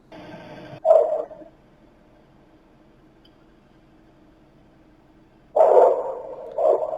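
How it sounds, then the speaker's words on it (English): Security camera audio from a house at night: a dog barks once, then after several seconds of quiet hum two more muffled, distant barks follow, sounding thin and processed. "It sounds almost like a different dog, right?"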